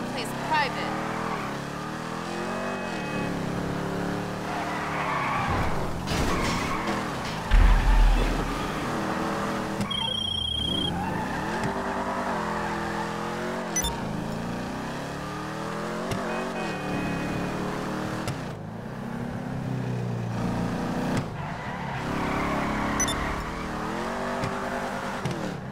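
Car engine in the Grand Theft Auto video game, driving and skidding, revving loudly and continuously with its pitch sweeping up and down throughout, over steady road noise with one brief heavier thump midway.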